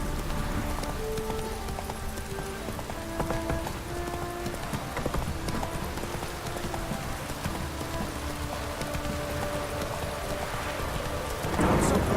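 Steady, heavy rain hisses throughout in The Witcher 3: Wild Hunt, with a horse's rhythmic hoofbeats clopping along and soft tonal music in the background; nobody speaks.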